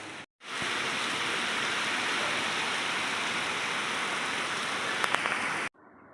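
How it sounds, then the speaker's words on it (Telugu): Rain falling heavily outside a home: a dense, even hiss of drops on surfaces that starts abruptly after a short pause, holds steady for about five seconds, then cuts off. "వర్షం అయితే ఒక హాఫ్ అన్ అవర్ ఇలాగే పడింది"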